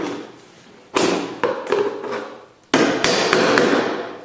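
Several sharp taps and knocks as a screwdriver is used to push go-kart mud flap parts into place, close and loud, in two clusters with a quiet gap between.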